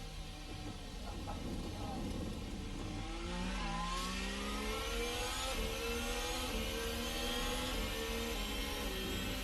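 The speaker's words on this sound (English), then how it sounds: "we drop it into first gear, we raise the revs a little bit, and we pull away out of the pit lane here at Spa in Formula Hybrid 2020" A Formula Hybrid 2020 race car in a racing sim pulls away from the pit lane at Spa in first gear, its engine note rising steadily in pitch, loud and continuous throughout.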